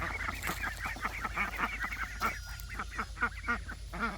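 Adult ducks kept together with young black-and-white and white hatchlings on a homestead make steady overlapping honking and quacking calls. The calls are close and repeat throughout, with no talk.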